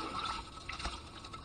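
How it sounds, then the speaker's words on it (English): Water pours into a bowl of sourdough ingredients, a close, soft splashing trickle with a brief fuller gush midway, fairly quiet and steady. "So I'm going to pour in my water, I'm going to pour in my salt"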